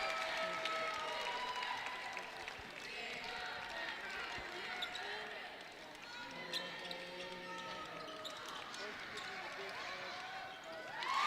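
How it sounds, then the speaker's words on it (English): Fans in a gym at a boys' high school basketball tournament game applaud a player, a crowd clapping at a moderate level with sneaker squeaks, court noise and a commentator's voice over it. "he gets a round of applause from those Warrior fans"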